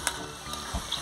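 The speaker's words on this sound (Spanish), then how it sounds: "Pues vean, ya se está friendo y la verdad ya no va a necesitar manteca" Pork sizzling and frying in its own fat, a soft crackle with faint pops, a low thump near the end.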